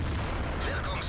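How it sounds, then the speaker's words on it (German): A tank cannon fires in the World of Tanks video game, a short booming blast with a rumbling tail lasting about a second. "So, dem haben wir die Kette weggeschossen."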